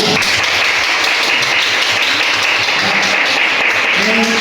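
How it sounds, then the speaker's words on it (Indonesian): Classroom applause for group one, a dense steady clapping from a class of students that fills the whole moment, with voices mixed in. "bagus, kasih aplaus untuk kelompok satu."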